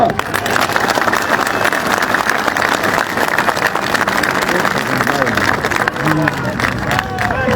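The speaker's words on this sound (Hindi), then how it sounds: "शहरियार के लिए तालियां।" A large crowd at a PTI political convention in Kohat claps and cheers for Shahriyar, dense sustained applause mixed with babbling voices, loud and close, holding steady for several seconds.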